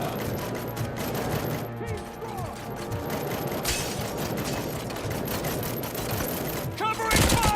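Rapid bursts of gunfire and automatic weapons crackle in a RoboCop Rogue City shootout, dense overlapping shots with mechanical clanks and a loud burst at the end, with shouted voices in the background.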